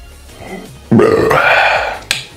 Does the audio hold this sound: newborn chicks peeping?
no